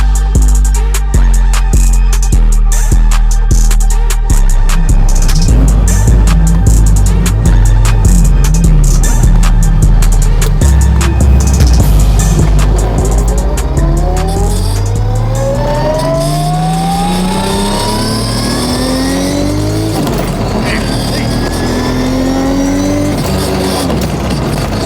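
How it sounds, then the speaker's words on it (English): A 1500hp Toyota Supra roars hard, its engine climbing through repeated rising revs as it accelerates and bangs through gear changes, loud and close the whole way with no talking. "Vamos a seguir dando la vuelta en el Supra."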